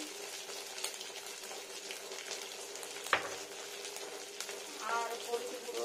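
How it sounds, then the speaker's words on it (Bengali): Dal frying in a pan with ginger paste and green chili, a steady soft sizzle with stirring scrapes and a sharp clink partway through, while a person talks over it. "আর একটু ফ্রাই করে নিই"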